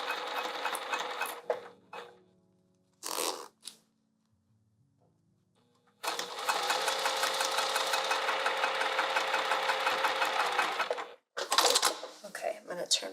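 A sewing machine stitches a vinyl sling bag, starting with a few short bursts and then running a steady, fast needle rattle for about five seconds, with quiet pauses between runs.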